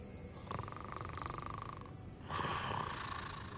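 A goblin banker character in the video game Hogwarts Legacy snores, two long rasping breaths, the second louder and rougher, close and alone without speech.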